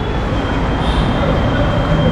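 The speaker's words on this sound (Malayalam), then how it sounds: "ഇതേ ബാംഗ്ലൂർ മെട്രോ കണ്ടില്ലേ?" Steady, loud rumble of a Bangalore metro train running, a continuous dense roar with a faint high whine above it and no voices.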